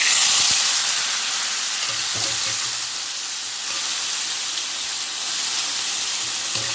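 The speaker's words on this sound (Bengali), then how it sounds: "তো তেলটা আমার হয়ে গিয়েছে এবার আমি দিয়ে দিচ্ছি কচু শাকটা" Taro leaves hit hot oil in a pan, producing a loud steady hiss of sizzling that starts strongest and settles into a constant bubbling crackle, with no talking.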